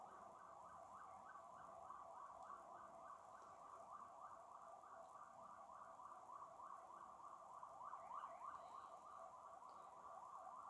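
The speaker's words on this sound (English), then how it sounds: "Excuse the sirens." Emergency vehicle sirens wail steadily outside, a continuous rising and falling tone that carries through the whole stretch at moderate, somewhat distant volume with no talking.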